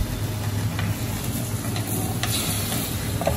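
Vietnamese lap xuong sausage fries in a pan, giving a steady, dense sizzle that runs the whole time with a few faint clicks of utensils and no voices.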